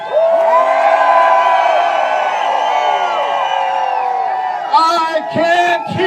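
A rally crowd lets out a sustained, loud mass scream of many overlapping voices, which fades into scattered shouts and whoops of cheering.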